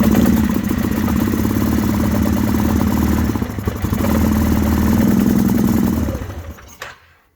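A 2009 Suzuki Quadrunner 400 4x4 ATV fitted with an extra muffler runs steadily with a muffled, clattery engine drone close by. It holds an even idle for about six seconds, then drops away and cuts out.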